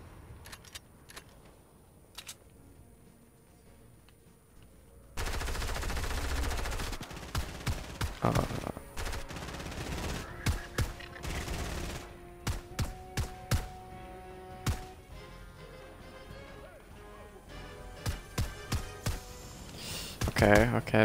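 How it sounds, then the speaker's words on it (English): Fortnite gunfire: quiet game ambience, then a loud burst of shots that continues as repeated, sharp volleys, some in rapid bursts, with a voice talking faintly underneath. "Shooting is like pretty dang loud."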